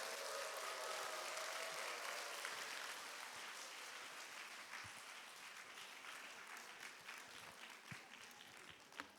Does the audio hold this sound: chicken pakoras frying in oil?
no